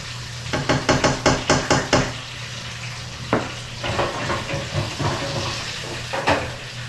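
Flounder frying in a deep fryer, a constant loud sizzle and bubbling with a run of rapid clattering knocks early on and scattered sharper clanks later, no talking.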